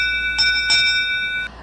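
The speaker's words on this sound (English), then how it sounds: "Ring the bell" A bell sound effect for a subscribe notification: bright, sustained ringing tones with two quick struck accents, clear and close, cutting off sharply near the end.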